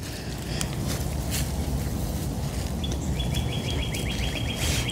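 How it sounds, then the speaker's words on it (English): Birds chirping outdoors in a spring garden while annuals are being planted, scattered short calls and a brief rapid trill against a steady rustling, windy outdoor background. "You guys hear the birds?"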